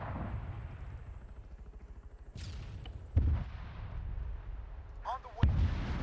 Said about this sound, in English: Yeah, so we're gonna start hearing those launcher sounds.